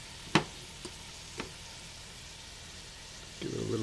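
Celery hits a hot pan for tomato gravy: a few sharp clinks and taps, then a rising sizzle swells at the very end, close and fairly loud, with no talking.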